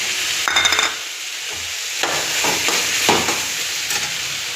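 Mushrooms and green peas sauté in a pan for a gravy, a close, steady sizzle broken by several scraping stirs, with no talking.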